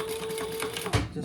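A sewing machine stitches back over the seams of a fabric shoulder bag, a short, quick mechanical whir with a faint hum and a soft thump near the end.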